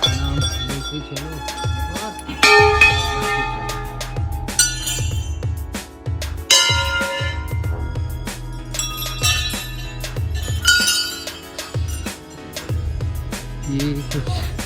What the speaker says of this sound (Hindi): बहुत ही सारी घंटियाँ हैं।